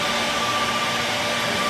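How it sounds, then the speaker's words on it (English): A hair dryer fitted with a concentrating nozzle blows steadily, a loud, even broadband whoosh with a faint motor hum and no pauses. "I like the nozzle on the dryer because it gives me more direction"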